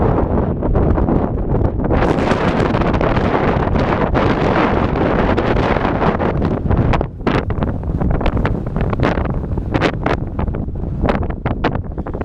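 Strong, gusting wind on Mount Washington in the White Mountains roars continuously and loudly across the microphone, buffeting it throughout with only a brief dip, and no one talks.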